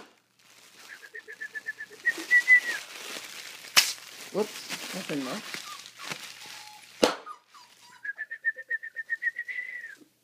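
A rapid trilling whistle sounds twice, at the start and again at the end, with people talking in between and a sharp bang of gunfire during a dog's gunfire training.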